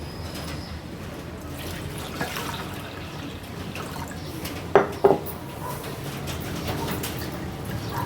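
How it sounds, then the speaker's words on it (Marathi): Water drains steadily from boiled tender bamboo shoots, a continuous close trickle and wash with a couple of brief clinks from the bowl partway through. "पूर्ण ह्याचं पाणी निथळून घ्यायचं आहे"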